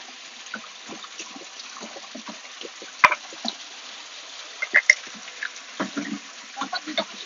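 Mountain spring water splashes and trickles steadily, with scattered louder drips and splashes nearby; no talking.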